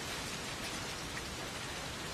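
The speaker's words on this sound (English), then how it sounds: "It started raining again." Steady rain falling, a dense uniform hiss with no distinct drops or other sounds, faint and continuous for the whole stretch.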